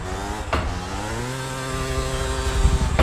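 Go-kart engine in GTA Vice City, a loud buzzing motor whine with steady harmonic tone and slight pitch changes, continuous and close.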